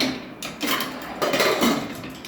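A metal pressure cooker lid is shut in a home kitchen, making a few close clanks and scraping knocks in quick succession.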